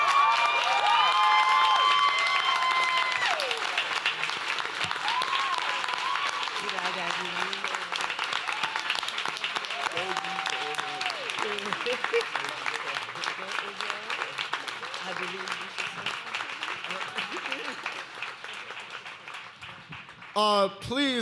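Sustained audience applause with scattered cheers and whoops at a poetry open mic awards ceremony, a crowd clapping continuously while a voice speaks faintly underneath, fading slightly toward the end.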